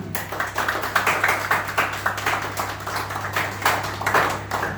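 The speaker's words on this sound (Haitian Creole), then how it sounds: "C'est une façon classique pour m'inviter à applaudir" A conference audience claps warmly, a dense patter of many hands in steady applause with slight swells in intensity, continuing over a low hum throughout.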